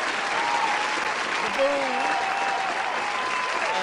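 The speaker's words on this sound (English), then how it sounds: "round of applause" An audience breaks into steady applause that lasts throughout, a dense wash of clapping at even loudness with a voice speaking over it.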